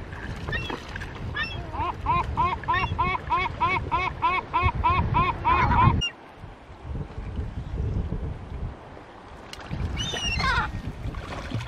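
Seabirds call in quick repeated bursts around a motoring boat while fish are cleaned in the cockpit, the cries layered over steady wind and engine rumble, fading out then returning near the end.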